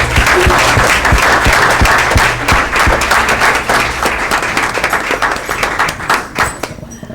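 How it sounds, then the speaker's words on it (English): A big round of applause fills a town council meeting, loud sustained clapping from a crowd with sharp individual claps standing out, gradually thinning toward the end. "I want one more big round of applause for everybody."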